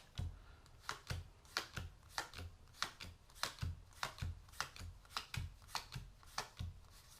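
Someone shuffles a deck of game cards for a Spiderwoman tabletop card game, making a steady run of about twenty crisp, evenly spaced riffle snaps, close and fairly quiet, with no talking.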